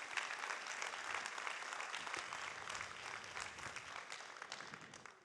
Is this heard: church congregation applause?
yes